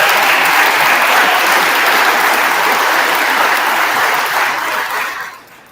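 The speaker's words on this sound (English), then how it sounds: "Let's give him a round of applause." An audience applauds the governor at a university forum, with loud, dense clapping that holds steady for several seconds and then tapers off toward silence.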